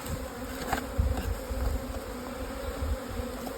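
Steady buzzing of many honey bees close by at a hive entrance, a dense droning hum with individual bees passing louder now and then.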